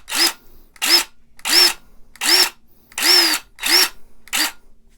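Seven short, loud bursts from a brushed Milwaukee M18 Fuel 1/2-inch impact wrench, each trigger pull rising and falling in pitch with brief silent gaps between, close up with no talking.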